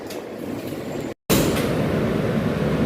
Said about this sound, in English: This is a Brooklyn-bound Q train.